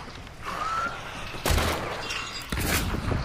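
Gunfire in the video game Hunt: Showdown, a few sharp loud shots spaced apart over a steady background rumble.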